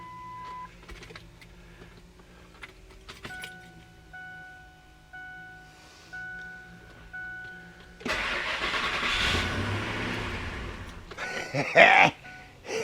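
An engine cranks and catches on a car being worked on for torsion bars and a gas tank, with a broad roar swelling after a quiet stretch of faint tones and rising louder near the end.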